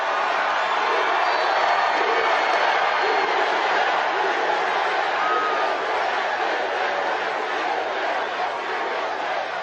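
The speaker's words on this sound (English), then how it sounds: "This is one hell of a big crowd." A large outdoor crowd at a Trump rally in Gastonia, North Carolina roars steadily, a dense wash of cheering and chatter holding loud and even without pauses.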